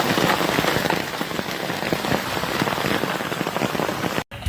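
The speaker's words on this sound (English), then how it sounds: "Look at the hail coming off my little awning here." Hailstones pelt a camper awning during a hailstorm at a state park campground, a dense, loud, continuous patter of rapid close impacts, with a brief dropout near the end.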